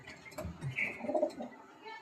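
A pigeon being handled and shown coos faintly, a low soft burble with a few higher chirps, quiet and close.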